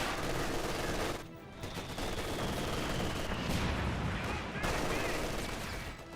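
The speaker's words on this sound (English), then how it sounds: "And with the MG4 in the back line, these guys in the front line just getting suppressed" MG4 machine gun fire in the video game Company of Heroes 2, steady dense bursts of automatic fire with a brief lull, mixed with battle noise and a commentator's voice.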